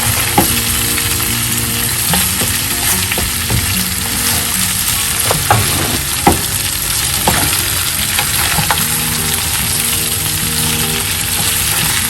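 Mutton chops dry-fried and stirred in a pan with garam masala, a loud continuous close sizzle with repeated scraping and clacking of a spatula against the pan, no talking.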